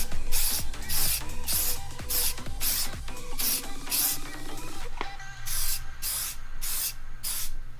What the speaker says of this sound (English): So for these next couple coats, we're not going to be spraying it straight on